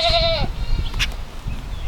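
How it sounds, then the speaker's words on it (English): A goat in a farm barn gives a loud, wavering bleat up close, followed by fainter bleats from other goats and soft rustling in the background. "This is a goat."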